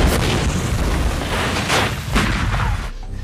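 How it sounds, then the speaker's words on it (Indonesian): Heavy artillery bombardment in a war film set among German forces: dense, continuous rumbling booms with several louder blasts rising from the din, close and loud throughout before easing near the end. "diiringi gempuran dari pasukan Jerman yang belum juga usai"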